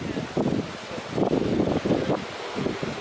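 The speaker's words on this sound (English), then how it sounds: "It's so windy too," Gusty wind on a Hawaiian coast buffets the microphone as a low, rumbling roar that swells and eases in uneven pulses, with no voices.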